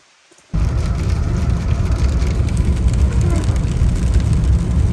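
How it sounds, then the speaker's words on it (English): After a brief quiet moment, a dense steady hiss of rain starts suddenly in Kejimkujik National Park, Nova Scotia, and continues loudly, close and unbroken. "It is raining."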